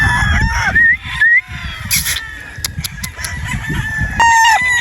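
Brood-quality gamefowl stags and roosters crow loudly and close by, with overlapping cock-a-doodle calls and clucking across the whole stretch and no talk.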